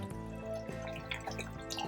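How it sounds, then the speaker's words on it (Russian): Water poured over rice in a bowl while it is transferred to a larger container for soaking before making plov, a steady trickling and dripping flow at close range with no talk. "Я его пересыплю в более большую емкость и залью его водичкой"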